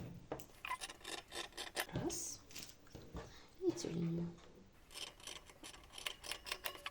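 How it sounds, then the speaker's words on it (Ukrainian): Tailor's scissors cut through fabric for a phone-stand pillow in a series of soft rasping snips, close but quiet, with someone speaking briefly between the cuts. "беремо кравицькі ножиці і швиденько вирізаємо"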